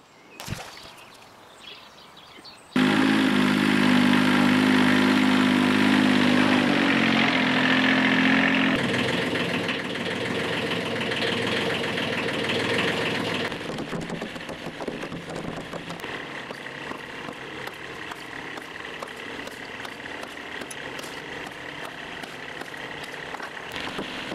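A small Kubota compact tractor engine starts up close by and settles into a steady, chugging idle that runs on loudly without pause.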